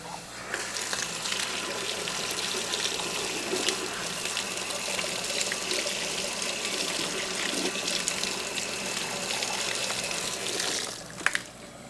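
Tap water runs steadily into a sink while a clogged sprayer filter screen is rinsed, a continuous hissing gush that holds for the whole stretch and ends with a brief louder splash.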